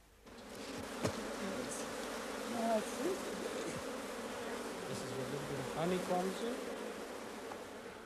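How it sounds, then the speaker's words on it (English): African honey bees, Apis mellifera scutellata, at a hive on an estate, a dense continuous buzz with individual insects droning past close by, a faint voice briefly audible beneath. "honey, produced from the fierce yellow bee of Africa, Apis mellifera scutellata"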